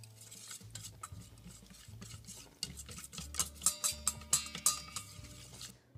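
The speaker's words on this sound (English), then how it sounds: "to mix 1/2 cup of milk, and as I've said, I'm using almond milk, with 3 tablespoons of cornstarch." Almond milk being whisked with cornstarch for dairy-free strawberry ice cream, a steady scraping stir with brisk utensil clinks that grow louder and more rhythmic in the second half, close by with no talking.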